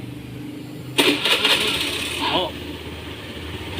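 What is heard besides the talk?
motorcycle engine starting and idling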